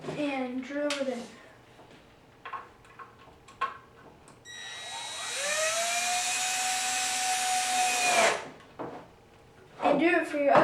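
A power drill drives a screw into the dowel-reinforced handle of a wooden toolbox, a steady whirring run of about three seconds with a rising whine, framed by brief knocks and handling noises and talk before and after.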